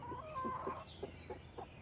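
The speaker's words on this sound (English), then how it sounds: "Here are my chickens." Hens clucking softly in short repeated bursts, a few overlapping calls close by with a quiet farmyard background.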